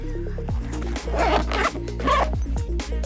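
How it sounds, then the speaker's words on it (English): A motorcycle tank bag's big zipper is pulled in several quick, rasping strokes, close and loud, over a low steady hum. "Rest of the bag here, nice big zipper."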